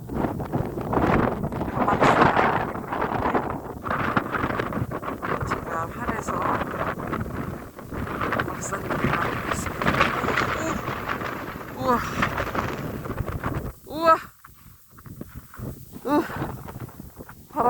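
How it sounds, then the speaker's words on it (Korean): Strong, gusty wind sweeps across a frozen reservoir in winter, buffeting the microphone with a continuous rough roar that swells and drops. A voice can occasionally be heard beneath it. "바람 세서 정면으로 못 걸어가네요"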